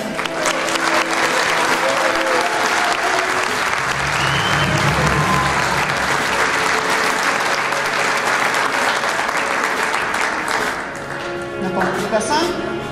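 Audience at a regional association assembly gives a sustained standing ovation for the organizing team, dense continuous clapping filling the hall, tapering slightly near the end.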